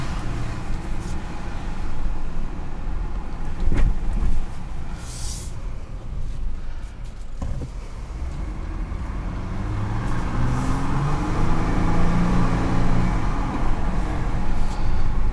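A 2021 Jeep Gladiator Mojave with an automatic transmission drives along, giving a steady, moderate road and engine rumble heard from inside the cab, with a couple of brief knocks and a faint voice at points.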